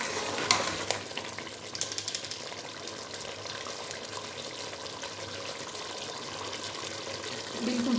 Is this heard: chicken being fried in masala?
yes